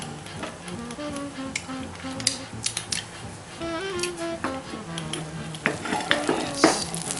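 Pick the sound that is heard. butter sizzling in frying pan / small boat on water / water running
butter sizzling in frying pan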